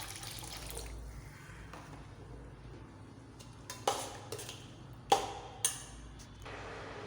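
Coconut milk pours softly into a pan of red lobia (karamani) gravy, followed by a few sharp clinks of a utensil against the pot in a quiet kitchen.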